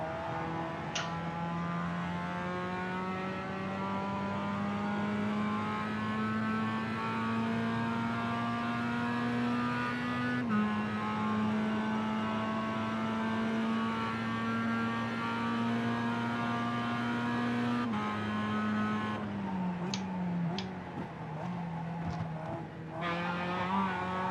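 A Mazda MX-5 Cup race car in the iRacing simulator on the Charlotte Roval, engine droning loud and steady at high revs with gradual pitch shifts, gear changes and brief dips as it brakes and downshifts near the end.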